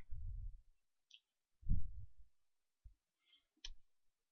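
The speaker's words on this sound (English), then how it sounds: "we're going to go to the installer and click Next" A computer mouse clicks a few times, sparse and close, with soft low thumps around the clicks and near silence between them.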